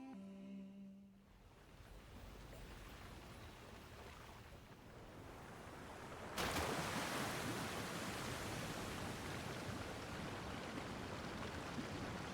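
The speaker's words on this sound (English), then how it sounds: "Waterfall." A waterfall in the video game Genshin Impact, a steady rushing roar of falling water that swells suddenly louder partway through and then holds as a dense, continuous wash.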